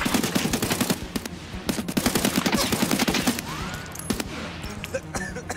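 AK rifle gunfire in the shooter game Escape from Tarkov, loud close bursts of rapid automatic shots in a steady rattling rhythm that carry on for several seconds, with brief pauses between volleys.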